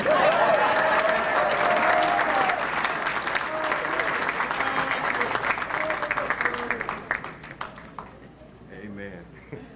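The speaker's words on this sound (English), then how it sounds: "Thank you for the hand clap of praise." A banquet crowd at a sports hall of fame enshrinement claps loudly and continuously, a dense wash of hand clapping that thins out and fades near the end, with voices heard over it.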